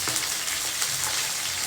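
Food cooking down in a pan with milk or coconut powder gives a soft, steady sizzle and bubbling hiss, continuous and close, with no voices.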